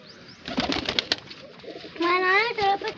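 A single pigeon of an ornamental breed coos close by in a short rolling call near the end, preceded by clicks and rustling as someone talks over it.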